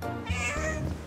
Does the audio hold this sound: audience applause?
no